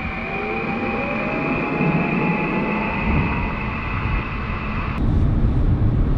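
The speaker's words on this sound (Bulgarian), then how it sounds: "Не знам дали успявате да чуете звука на този двигател. Сега давам газ." A Mazda MX-30 R-EV's rotary range-extender engine hums and whines steadily as throttle is applied, a sustained rising tone over broadband road rumble, swelling slightly louder near the end.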